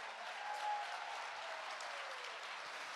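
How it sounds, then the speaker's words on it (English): Audience applause for three storytellers at a union Federation Day event, a steady, moderately distant wash of clapping from a crowd that holds evenly for the whole stretch. "How about a round of applause for all three of our storytellers?"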